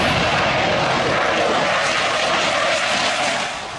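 A Dassault Aviation Rafale fighter jet flies past with a loud, broad, steady roar of engine noise that fades slightly at the end.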